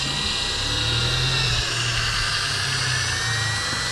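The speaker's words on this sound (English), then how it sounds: "I'm countersinking without a countersinker." A power drill whines steadily and loudly as it bores a countersink for a screw hole in wood for a twin bed frame, one continuous close high-pitched drone without talk.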